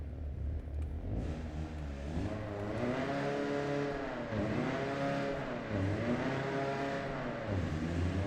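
A car engine in the racing game Apex Point revs repeatedly on a dyno, climbing and falling in several rising sweeps over a steady idle rumble, loud and close with no talking.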